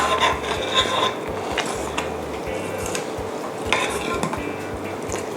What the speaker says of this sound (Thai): คนส่วนผสมทุกอย่างให้เข้ากันนะคะ